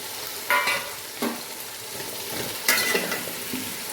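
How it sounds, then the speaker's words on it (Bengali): Chopped onions go into a hot frying pan while khichuri is being cooked, giving several sharp hissing bursts as they hit the oil, then a softer ongoing sizzle and stirring, close up with no talking. "এখানে পেঁয়াজ কেটে রাখা দিয়ে দিলাম"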